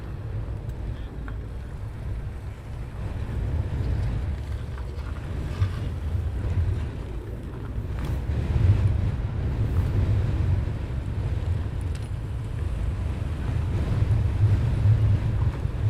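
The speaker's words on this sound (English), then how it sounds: "And that wind's picked up again" Wind blowing at an airfield, a steady loud rush of buffeting across the microphone with gusts rising and falling throughout.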